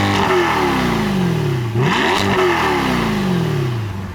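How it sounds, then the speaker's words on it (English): A rented sports car in track mode with extra exhaust baffles opened, its engine loudly revving up and down in repeated sweeping climbs and drops, close and unbroken. "If you put it in track mode, it opens up extra baffles on the exhaust, and then the sound gets really,"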